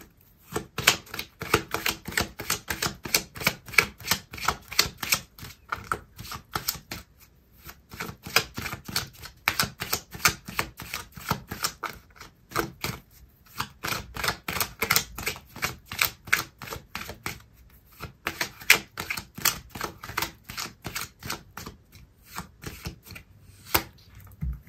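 Tarot cards being shuffled, a long run of rapid, crisp riffling clicks in bursts with brief pauses, close and fairly loud, no voices.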